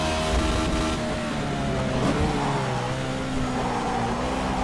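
A race car engine in a racing video game drones loudly and steadily throughout, its pitch wavering slightly as the throttle is blipped, with no talk over it.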